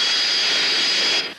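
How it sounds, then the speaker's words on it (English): A Royal Air Force jet lands at Midway airport, its engine a loud, steady roar that holds, then drops away sharply near the end. "The Royal Air Force jet touched down at Midway right on schedule"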